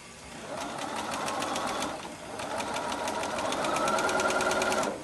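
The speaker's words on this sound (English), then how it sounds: "we're just going to go ahead and sew this" A sewing machine sews a quarter-inch quilting seam in two close, moderately quiet runs of fast, even needle chatter with a brief slowdown between them.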